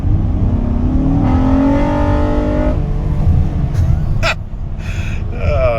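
A Honda Odyssey minivan engine in sport mode revs hard past its VTEC crossover, climbing steadily in pitch through a loud intake roar, then easing off into a steady drone with a few brief sharp noises.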